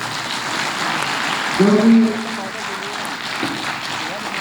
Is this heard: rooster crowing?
no